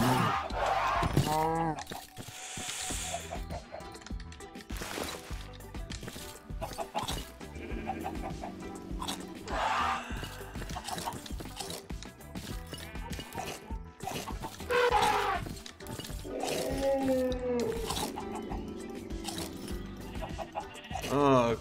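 Sheep in the Minecraft video game bleat in short, repeated bursts among other game sounds, with a voice talking over much of the gameplay.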